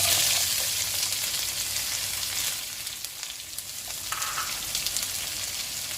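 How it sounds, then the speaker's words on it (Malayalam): Ginger, garlic and shallots sizzle in hot oil in a pan for a Kerala-style beef curry masala, a steady close frying hiss with faint stirring and no voices. "സവോള ഒരു ലൈറ്റ് ഗോൾഡൻ കളർ ആകുന്നത് വരെ ഒന്ന് വഴറ്റിയെടുക്കണം."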